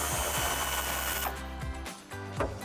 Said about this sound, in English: I have an 18 millimeter socket. I'm just gonna remove that nut and take the quad shock off of that stud.